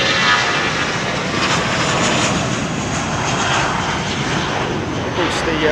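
An Emirates Airbus A380 jet with Rolls-Royce or GP7200 engines roars at London Heathrow runway 27R, a loud, continuous, broad engine rumble with hiss throughout.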